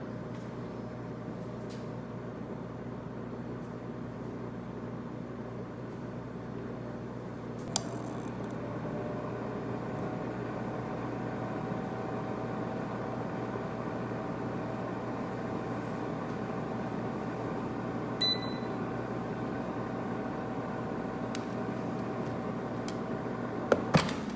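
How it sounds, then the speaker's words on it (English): A microwave oven drying basil gives a steady, low electrical hum that drones on unchanged for the whole stretch, with a couple of faint clicks and taps. "having it in the microwave for 1 minute"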